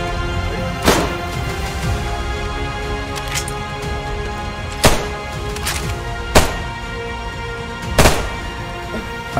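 Mosin rifle gunshots in the video game DayZ, four sharp separate reports spaced a few seconds apart over a steady, noisy in-game background.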